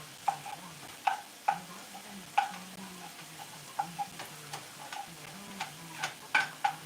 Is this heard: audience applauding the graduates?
no